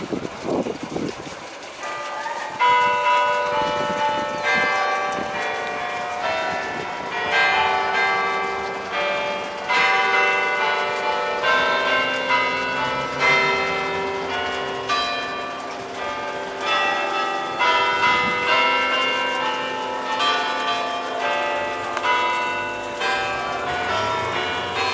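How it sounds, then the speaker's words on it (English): A bell in a town tower in Veurne, in northwest Belgium, rings out a melodic tune of clear, resonant struck tones in a steady sequence, each note lingering over the next, with faint background ambience and no talking. "the bell in the tower plays different tunes every 15 minutes"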